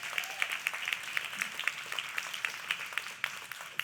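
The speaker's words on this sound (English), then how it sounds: "can I have another round of applause for Carmen and Kristy for bringing us all to" Audience applause after a community event's closing remarks, a steady patter of many hands clapping at moderate distance, fairly quiet with scattered sharper claps throughout.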